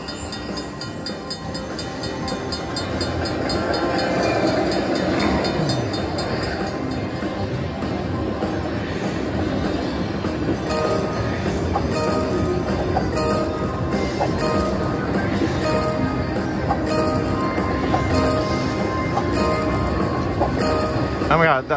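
Train sound effect from a Lil Red slot machine in a casino, a busy mix of rumbling rail noise and chiming clinks playing continuously at moderate loudness.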